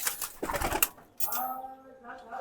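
Recovering pet pigeons coo softly in a few short, close calls, with a voice talking over parts of it.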